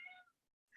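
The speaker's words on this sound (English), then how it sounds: "And that is my cat Lennon, if you can't hear him." A cat meows twice, close by: a drawn-out cry, a short silence, then a second louder meow starting.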